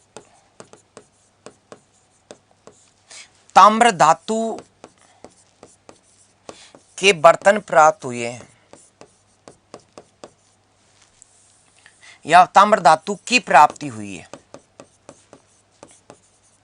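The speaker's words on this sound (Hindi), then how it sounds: "मैं लिख रहा हूं" A pen scratches on paper in short, rhythmic strokes and taps, heard during pauses and under a man lecturing in bursts.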